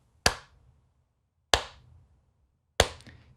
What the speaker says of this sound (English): claps slowly